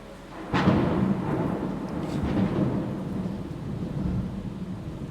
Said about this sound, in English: now we got some gnarly thunderstorm